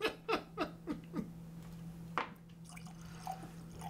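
Glenlivet Grand Cru whisky poured from its bottle, a short run of faint gurgles and drips followed by a quieter trickle, soft and close with no talking.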